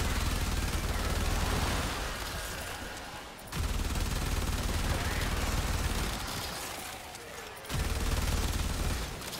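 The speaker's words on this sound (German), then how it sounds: "obwohl ich gerade so richtig Munition raushau" Sustained automatic gunfire in the shooter game Warframe, fired with an ammo-boosting Carrier Prime, comes in loud continuous bursts with two brief pauses between them.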